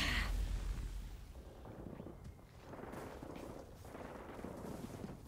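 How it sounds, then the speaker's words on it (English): Faint, distant gunfire and muffled blasts crackle in an online PvP shooter game, a sharper burst at the start followed by scattered softer shots under a low rumble. "I hear gunshots. A lot of gunshots."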